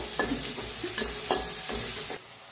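Onion and tomato frying on a tava for a village-style cluster bean (gavar) sabzi, with a steady sizzle broken by several scraping stirs of a spatula, close and alone, cutting off abruptly at the end.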